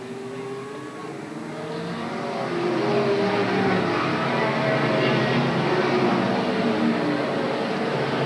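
Race cars roar around the oval at Willamette Speedway in 1987, a dense, continuous engine drone that swells louder after the first couple of seconds and then holds steady, with no voices over it.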